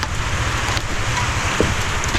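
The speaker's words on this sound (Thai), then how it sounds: "ฝนตกพี่น้องเอ้ย" Steady rain pours outdoors in a rural village, making a dense, constant hiss that stays even throughout, with no speech.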